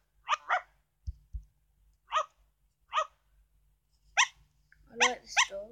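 Several short, sharp barks from a pet dog, coming in separate bursts with pauses between them, close and moderately loud, the last few with a whiny, yelping edge.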